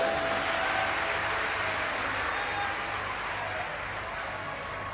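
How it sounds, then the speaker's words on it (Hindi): A large audience at a Shiv Puran religious discourse in India gives sustained, dense, loud applause that fades slightly toward the end. "एक बार जोरदार ताली बजाओ।"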